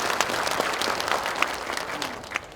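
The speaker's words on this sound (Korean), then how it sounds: "좋은 말씀 해주신 교수님께 다시 한번 큰 박수 부탁드립니다." An audience claps in a concert hall during a county meeting on regional administrative integration, honoring a professor after his speech. The applause is dense, steady and fairly loud, with no voices over it.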